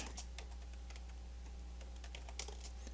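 Keys clatter in steady bursts on a computer keyboard while HTML code is typed into an index.html file, close and fairly quiet over a low constant hum, with no talking.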